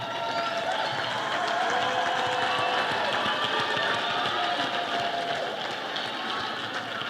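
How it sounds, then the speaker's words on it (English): Sustained applause from a large audience at a university graduation ceremony, a dense, even wash of clapping that holds steady throughout with no pauses. "may I request you to stand up and give them a standing ovation"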